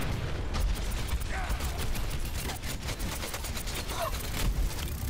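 Rapid automatic gunfire rattles continuously in the Overwatch video game, a dense stream of shots layered over a constant loud mechanical game din.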